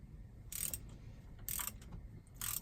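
Spark plug being tightened on a Yamaha 242 Limited S boat, three short bursts of ratcheting clicks from a wrench separated by quiet pauses, close and fairly faint.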